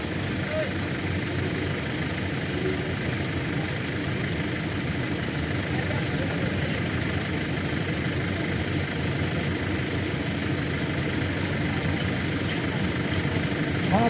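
A loaded vehicle stuck in gravel, with a Bolero pickup and tractor nearby, idles with a steady mid-pitched engine drone that holds constant throughout, while people talk over it.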